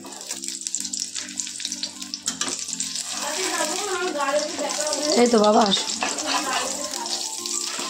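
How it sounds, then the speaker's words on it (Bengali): An egg frying in a pan sizzles steadily in a home kitchen, loudest in the middle, while people talk over it. "আর এদিকে একটু ডিম ভাজা করলাম।"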